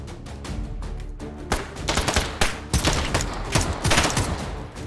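Sten submachine gun fired in the H3VR virtual-reality shooter, sounding as rapid bursts of automatic gunfire, loud and close, with short pauses between bursts and a dense volley toward the end.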